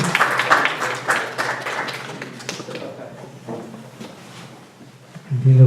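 Audience applause welcoming a poet at a book launch in New Jersey, a burst of clapping from a seated crowd that fades over several seconds, with a voice speaking over it.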